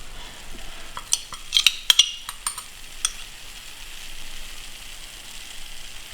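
Salad vegetables are stirred with dressing in a bowl, quiet wet mixing with a few sharp clinks of a spoon against the dish early on, then a low soft rustle.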